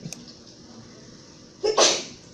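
A single sharp sneeze bursts out near the end, loud and close, after a stretch of quiet room noise.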